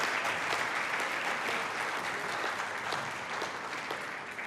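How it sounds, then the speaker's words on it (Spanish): A church congregation bursts into strong applause during a sermon, a thick, continuous roar of clapping from a large crowd that stays loud and even throughout. "Denle un fuerte aplauso si usted lo cree"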